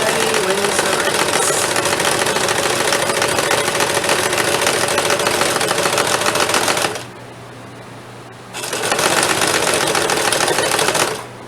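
Sewing machine stitching a rice heating bag, with a loud, steady, rapid mechanical whir of stitching that stops briefly for about a second before running again.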